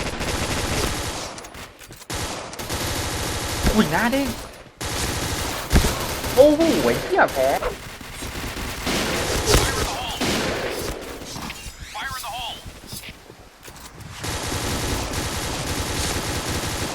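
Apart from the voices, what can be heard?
gunfire in a video game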